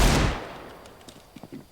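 A burst of gunfire in Counter-Strike: Global Offensive opens loud and close, then decays into a fading tail, followed by a few faint, sparse shots near the end.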